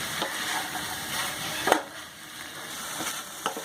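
Boiled banana flower being stirred together with fried potatoes in a pan, a steady soft sizzle with scraping stirs and a sharper clatter midway, no voices.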